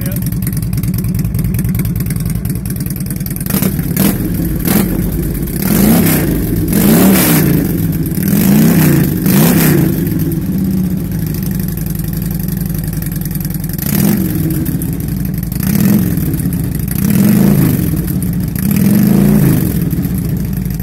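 A car engine revving through Python exhaust pipes, a steady low idle broken by several rising throttle blips in two clusters, loud and close, with a voice now and then in the background.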